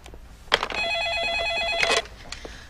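A telephone rings in one bright, steady burst of about a second, close and fairly loud, with a few soft clicks and knocks around it in an indoor room.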